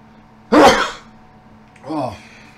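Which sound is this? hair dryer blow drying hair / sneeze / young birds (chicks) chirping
sneeze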